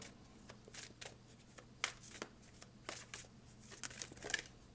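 A Yogic Path tarot card deck is shuffled by hand, giving repeated quick riffling and slapping bursts in an irregular rhythm, close and fairly quiet.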